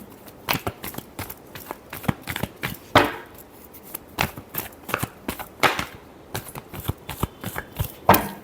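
Tarot cards are shuffled by hand in a string of crisp riffles and slaps, each burst short and sharp, repeating unevenly and close by, with no voices.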